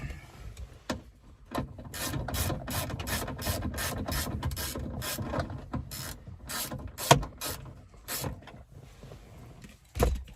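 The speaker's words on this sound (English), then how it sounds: "ratchet and a 7mm socket. Get them out of there." Ratchet wrench with a 7mm socket backing bolts out of a Ford F-series truck rear door, a series of rapid clicking bursts in quick rhythm, close and fairly loud with short pauses between strokes.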